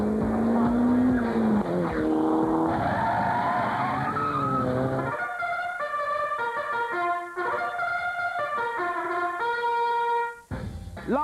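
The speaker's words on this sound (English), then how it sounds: "It's the Nissan Sunny GTIR. It's turbocharged, 4-wheel drive, goes like stink" A turbocharged four-wheel-drive Nissan Sunny GTIR skids with drawn-out tire squeal and shifting engine tones, a steady loud wash that runs the whole stretch before cutting off abruptly near the end.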